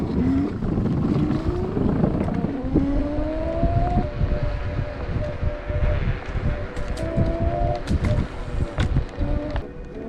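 An electric Wolf King GT scooter cruising through wetlands in single-motor mode, with a rising motor whine over steady wind rumble, close and continuous while people talk.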